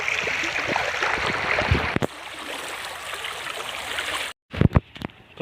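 Floodwater rushes across flooded fields near Srikona ITI in Silchar, a steady, close watery rush with splashy bursts that breaks off abruptly near the end, followed by a few sharp knocks.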